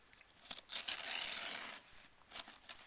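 A subscription box being cut open one-handed: a close, dry tearing and crinkling of cardboard and packing tape, rising into a sustained rip in the middle and followed by a few shorter crunchy cuts.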